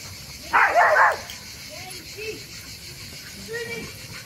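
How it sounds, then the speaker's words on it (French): Dogs meet on a walk among other dogs, including Australian shepherds and a fox terrier, with one short burst of barking near the start followed by faint yips and whimpers under quiet outdoor background. "C'est la rencontre canine."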